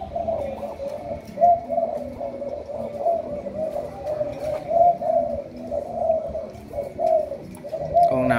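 A caged spotted dove, a male sold as a cooing bird, coos repeatedly in a steady rhythmic series, close and clear with no voices over it.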